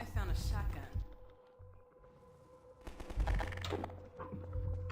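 Shotgun blasts in Half-Life 2: Episode One, a few loud booming shots in quick bursts mixed with other game noise, with a voice heard among them.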